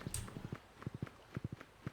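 Horse hooves clip-clopping at a steady walking pace in the video game Stardew Valley, crisp paired knocks repeating close by, with faint ambient tones behind them.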